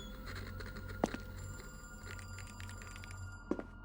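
A telephone rings in a street phone booth within a video game: two short, faint ring bursts about two and a half seconds apart over a low, steady ambient hum.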